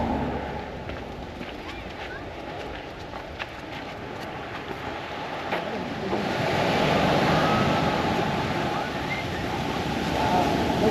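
Ocean surf rolls onto Sand Beach in Acadia National Park, a continuous wash of waves that swells louder in the second half, mixed with gusty wind buffeting the microphone.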